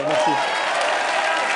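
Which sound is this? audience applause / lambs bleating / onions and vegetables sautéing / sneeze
audience applause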